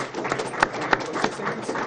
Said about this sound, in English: could we just give a round of applause to both tickets?